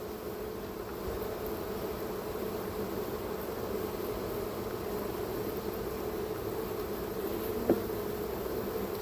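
A honeybee swarm buzzes inside a plastic tote swarm trap, a dense, continuous drone holding steady and fairly close throughout, with no voices.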